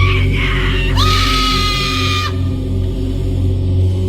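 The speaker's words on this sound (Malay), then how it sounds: "Bunyi suara pekikan yang agak kuat datang daripada kawasan bangunan" A loud, sustained human scream rises sharply and holds for over a second before cutting off abruptly, set within a horror story about a security guard on night duty at a building, with low background music underneath.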